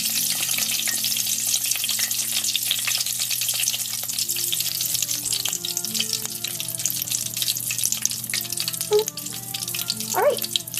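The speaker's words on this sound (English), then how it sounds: "we'll let this fry until they're golden black brown and they float up to the top" Sesame balls (banh cam) fry in a pan of hot oil with a constant dense sizzle, crackling steadily throughout and interrupted by a couple of brief tonal squeaks near the end.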